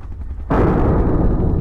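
Gunfire in an SCP horror video game, a sudden loud burst of shooting that cuts in after a brief quiet and rumbles on heavily to the end.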